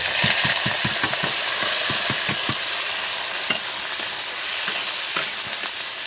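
Blanched cauliflower florets tipped into hot oil with panch phoron spices for a spicy aloo-gobi samosa filling, giving a loud continuous sizzle and hiss with a run of clattering stirring knocks, no voices.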